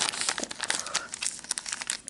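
A small plastic bag of vintage costume jewelry being opened, close-up crinkling and rustling in quick irregular bursts, with no talking.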